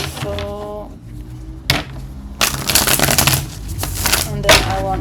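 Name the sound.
shuffling tarot cards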